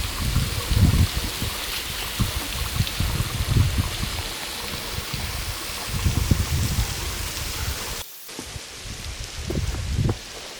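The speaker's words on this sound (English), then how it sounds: "That's Devkund waterfall." Devkund waterfall near Mumbai, running lighter than usual, gives a constant rushing flow from a distance, with nearer rustling and splashing, and a brief cut near the end.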